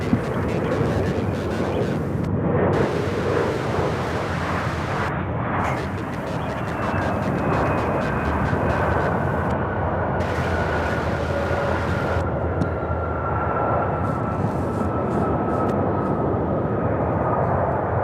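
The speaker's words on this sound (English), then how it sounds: "We have a few takeoffs here." Jet airliners taking off at Charlotte-Douglas International Airport, a steady broadband engine roar holding for the whole stretch with rising whine tones, moderately distant, with some radio chatter mixed in.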